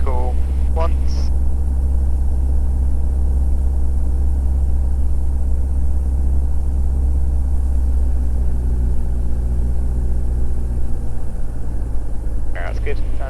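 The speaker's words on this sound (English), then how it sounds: "So engine up to 2000." Socata TB10 light aircraft engine held at about 2000 rpm during a run-up, a loud steady droning hum close by that continues throughout, with brief voice sounds at the start and end.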